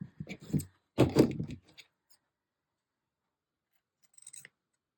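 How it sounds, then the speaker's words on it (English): Crisp scissor snips close by in two quick clusters as paper edges are trimmed on a round journal cover, then a pause and a fainter short snip near the end. "And I'm just going to trim those edges off."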